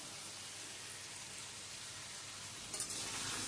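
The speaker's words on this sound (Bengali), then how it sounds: "এবার আমি ঢাকা চাপা দিয়ে আলুটা একটু ভাজা হতে দেবো" Potatoes fry under a lid in a pan for Bankura-style aloo posto, giving a steady, soft, even sizzle that holds throughout and ends in a brief louder clatter near the close, with no voices.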